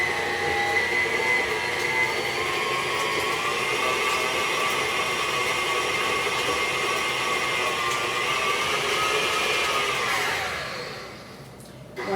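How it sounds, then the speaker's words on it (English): A KitchenAid stand mixer runs steadily while blending banana cookie dough, a loud continuous motor whir with a high hum that holds for about ten seconds, then winds down as the mixer is switched off, with no talking. "We're going to start the KitchenAid up here and kind of blend everything"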